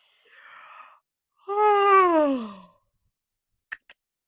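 A person lets out a big yawn: a breathy intake, then a long voiced groaning exhale that falls in pitch, followed by two short clicks, close and alone.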